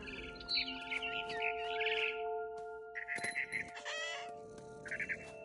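Bird chirps and calls come in short bursts over steady synthetic background tones in the video game What Remains of Edith Finch, moderately loud with brief pauses.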